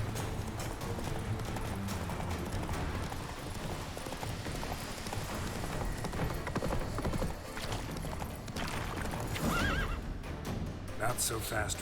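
Roach, the horse in The Witcher 3, neighs and whinnies amid clip-clopping hooves over a dense, loud game soundscape with steady background noise throughout.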